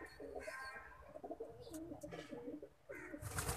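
Pigeons coo in soft, low repeated calls close by, with a steady rustle of other birds and background noise throughout.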